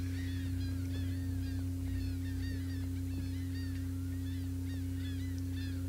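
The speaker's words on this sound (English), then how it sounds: "I am starting to get sick of these birds" Birds in the Indiana Jones and the Staff of Kings video game honk and chatter in a steady, overlapping stream over a constant low hum, with many short calls repeating throughout.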